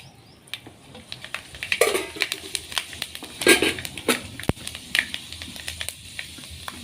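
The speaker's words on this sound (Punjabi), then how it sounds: "ਮੇਥੇ ਆਪਣੇ ਤੜਕ ਗਏ ਹਨ" Fenugreek seeds crackle and pop in hot oil in a village kitchen while a pumpkin dish is cooked, irregular sharp spits and bursts over a low sizzle, close and moderately loud.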